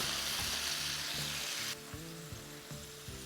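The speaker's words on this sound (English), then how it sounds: "I'm going to add it in so I can deglaze my pot." Bourbon poured into a hot pot to deglaze it for bourbon glazed lamb chops hisses in a loud, bright sizzle that drops abruptly partway, leaving a softer bubbling fry with light stirring taps.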